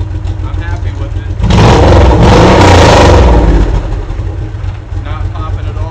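A 2005 Honda VTX1800C motorcycle with a Cobra FI2000 fuel controller idles with a deep, steady exhaust rumble, then revs hard for about two seconds before settling back to a low idle.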